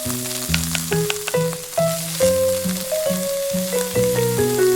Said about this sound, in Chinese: 接着开始炒制底料，加入郫县豆瓣15克，炒出红油之后